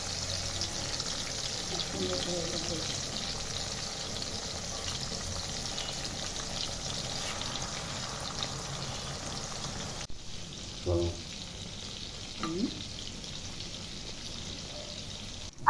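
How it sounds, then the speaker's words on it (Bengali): Slices of ash gourd sizzle steadily in deep hot oil, a soft continuous hiss; the frying noise thins partway through, and a couple of faint clinks and brief movements follow. "এখন আমি তেলের মধ্যে একটি একটি করে কুমড়ো ছেড়ে দিচ্ছি।"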